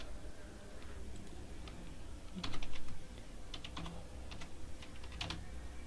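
Someone types text on a computer keyboard in irregular clusters of close, crisp key clicks over a steady background hiss, with no talking.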